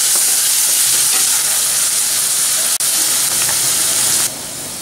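Onion and tomato for pav bhaji frying in a pan, giving a loud, dense, steady sizzling hiss close by with a brief break near the end, and no talk.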